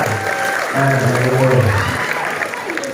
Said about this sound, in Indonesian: Beri tepuk tangan buat Antara.